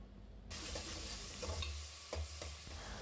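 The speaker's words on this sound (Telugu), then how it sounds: "1 టేబుల్ స్పూన్ అల్లం వెల్లుల్లి పేస్ట్ వేసుకొని పచ్చివాసన పోయే వరకు వేయించుకోవాలి" Tomatoes and ginger garlic paste frying in a pan for dosakaya chicken, a loud continuous sizzle starting abruptly, with a few stirring scrapes and clanks mixed in.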